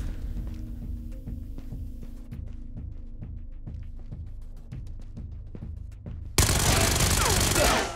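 Mac 11 machine pistol fire in Ghosts of Tabor, a steady run of rapid sharp shots over a low hum, ending in a loud, dense burst of noise.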